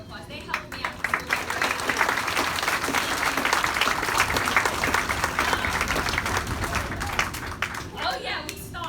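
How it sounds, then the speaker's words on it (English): Applause from an audience for parent volunteers at a school orchestra's Halloween concert, a broad, sustained burst of many hands clapping at steady loudness that tapers off near the end. "Give them a round of applause."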